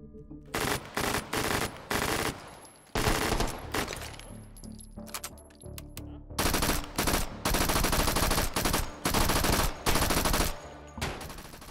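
Submachine gun fire in the VR shooting game H3VR, loud rapid automatic bursts repeating close up, with short pauses between strings of shots and a few longer sustained volleys.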